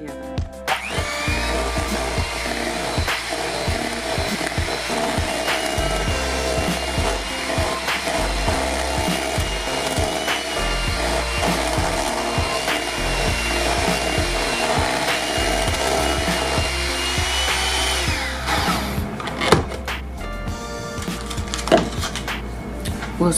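An electric mixer beats red velvet cupcake batter in a bowl with a continuous buzzing whir that holds steady for over twenty seconds, close and loud, with no talking.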